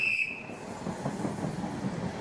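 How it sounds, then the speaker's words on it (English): A passenger train at Exeter St David's station, heard as a low rumbling roll with faint wheel clatter after a brief high squeal at the start, moderately near and steady throughout. "But this train now goes on to Taunton, Reading, and then into the capital."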